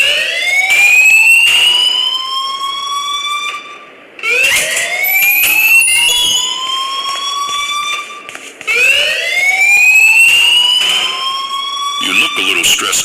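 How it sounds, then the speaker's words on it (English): Alarm in the video game Life is Strange, a loud electronic tone rising in repeated sweeps roughly every four seconds, ringing continuously and close over the whole stretch. "please turn off that alarm since that's your job"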